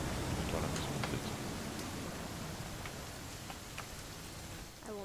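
Steady rain falls in the video game What Remains of Edith Finch, an even, faint hiss of drops with a few scattered louder patters.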